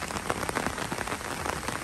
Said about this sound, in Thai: ฝนดีฝนดีแอฟริกาใต้ค่ะน้ำล้นเอ่อเลยท่านผู้ชม